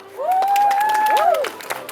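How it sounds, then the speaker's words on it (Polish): Crowd cheering and clapping at a theme park water park opening, a loud sustained shout rising over scattered claps, then trailing off. "Wielkie brawa!"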